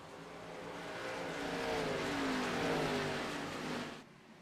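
Race car engines roar in a continuous, loud drone on an oval at Richmond Raceway in iRacing, with a rising and falling engine pitch as cars run together, then dropping off abruptly near the end.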